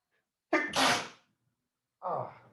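A person sneezes loudly and close by, a two-part burst followed by a shorter second sneeze after a brief silence, during a control engineering lecture.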